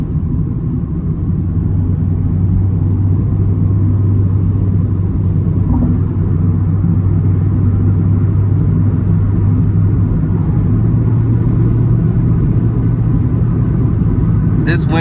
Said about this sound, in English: This wind noise, however, is brutal.